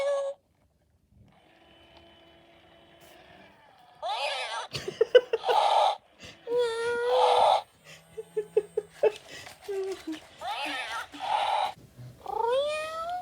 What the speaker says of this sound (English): that's when you annoy the Furreal Friends by touching it close to its tail